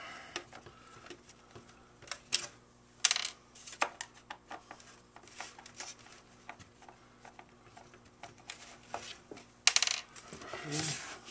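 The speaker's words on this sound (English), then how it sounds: "So when these screws come off, that'll come right off." Screws being removed from an electric space heater: faint, scattered metallic ticks, clinks and small rattles with a few sharper knocks and brief scraping, close by and irregular, with no speech.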